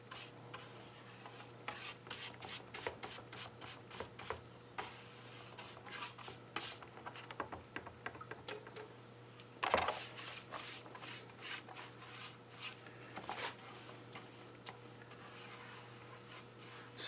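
Sandpaper rubs through a shellac finish on a copper beech wooden tray, producing repeated quiet rasping strokes in an uneven rhythm, close and faint over a steady low hum.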